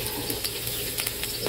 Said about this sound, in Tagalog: unahin muna natin igisa itong hotdog